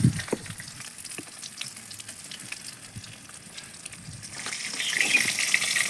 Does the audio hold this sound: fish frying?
yes